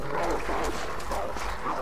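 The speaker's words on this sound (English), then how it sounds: "Can you stop barking at me?" Dogs bark repeatedly over a dense, constant noisy background, with the barks blurring together rather than standing out sharply.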